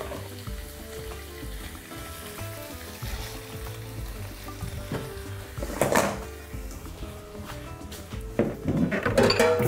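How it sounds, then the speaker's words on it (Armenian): Chicken liver frying in a pan for a warm salad, a steady sizzle under background music with occasional louder spatter and scraping as the pieces are moved. "Փոքր կարմրելուց հետո ավելացնում ենք լյարդը։"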